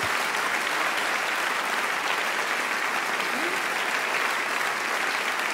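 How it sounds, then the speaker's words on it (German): A theatre audience at a German stand-up comedy show claps for the comedian, dense, steady applause filling the room from start to finish at even loudness. "hol dir noch einen Applaus"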